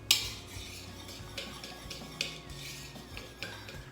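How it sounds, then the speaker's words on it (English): A whisk clinking against a bowl while dry ingredients for Linzer cookies are mixed, with light scattered metallic taps and scrapes, a sharper knock at the start, heard close and fairly quiet. "I'm just going to whisk those together"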